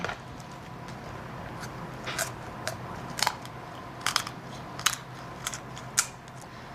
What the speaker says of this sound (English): So I'm going to just cut right up the backbone on both sides of the backbone.